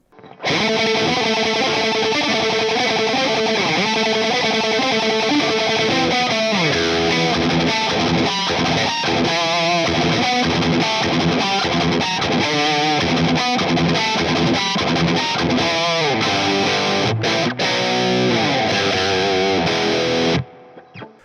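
Electric guitar chords strummed through a Marshall DSL100 tube amp, crunchy and lightly overdriven, loud and continuous with ringing sustain.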